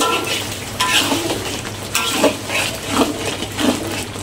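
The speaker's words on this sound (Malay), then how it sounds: "Goreng dengan telur mata." Steady sizzling of mee goreng noodles and fried egg frying in a pan, with a spatula stirring and scraping at intervals, close and continuous, no voices.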